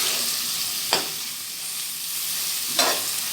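Sardine sisig sizzles steadily in a hot pan, broken by two sharp scraping stirs about two seconds apart, close and fairly loud with no talking.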